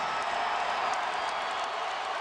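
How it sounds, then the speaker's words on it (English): Basketball arena crowd roaring steadily during a Lakers vs Raptors game, a dense continuous wash of cheering and applause with no breaks. "Crowd is going nuts."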